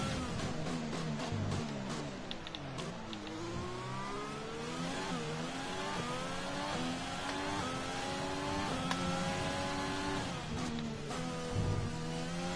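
A Formula 1 car's engine from the F1 2020 game at the Chinese Grand Prix wails loudly, its pitch rising through repeated upshifts on a straight, with no talking.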